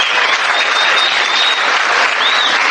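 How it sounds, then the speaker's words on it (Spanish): Seminar attendees break into loud, close applause, a thick, steady burst of many hands clapping, with a few high whistles cutting through. "Un aplauso, muchachos."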